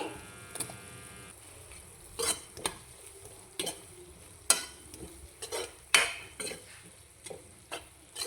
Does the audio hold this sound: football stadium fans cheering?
no